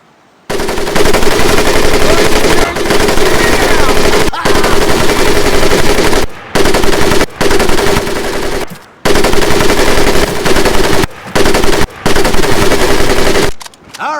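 Sustained machine gun fire from a crew-served weapon during a training exercise in Medal of Honor: Pacific Assault, loud, close bursts broken by several short pauses.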